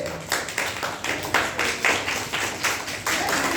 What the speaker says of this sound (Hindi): बिल्कुल सही, ताली बजाइए